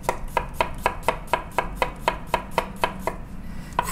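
A knife chops an onion on a cutting board for a salmon poke bowl, about fifteen crisp, evenly spaced thuds in a quick steady rhythm, close and clear with no talking.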